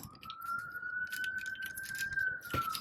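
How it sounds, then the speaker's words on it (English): An ambulance siren passes outside, a steady faint wail that slowly rises and falls in the distance behind the quiet indoor room. "I do apologize for the ambulance passing by"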